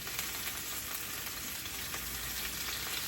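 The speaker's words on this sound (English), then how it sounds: "we're just gonna let this cook until the sausages are brown on all sides" Sausages fry in a pan, a close, continuous bright sizzle with scattered pops and crackles, steady throughout with no voices.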